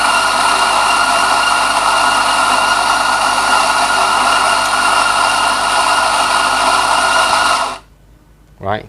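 An espresso grinder on a Gemilai 3131A setup grinds espresso beans with a loud, steady motorized whir for nearly eight seconds before cutting off sharply, leaving a brief quiet tail.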